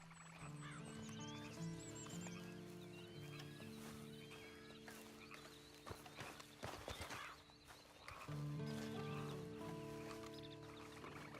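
Horse hooves clip-clop steadily at a walking pace in the video game Red Dead Redemption 2, accompanied by soft background music and a brief scattering of sharper knocks midway.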